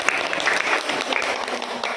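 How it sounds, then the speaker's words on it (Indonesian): A class of students gives a round of applause for a group after a language lesson presentation, a brief, steady burst of close, dense clapping. "Tepuk tangan untuk kelompok"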